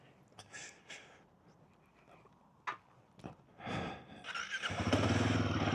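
A 2026 Royal Enfield motorcycle is set off for a ride. A few sharp clicks and knocks lead into the engine firing up and growing into a loud, steady, close rumble.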